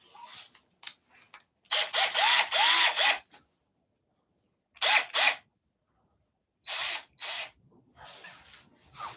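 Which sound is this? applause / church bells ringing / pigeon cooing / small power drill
small power drill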